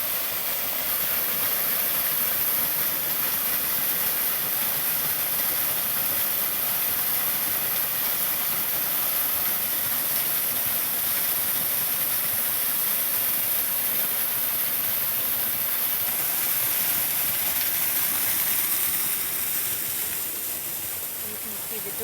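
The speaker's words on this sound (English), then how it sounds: "And this is the waterfall." Waterfall at a campground near a cave entrance, a loud constant broadband rush of falling water that continues unbroken throughout.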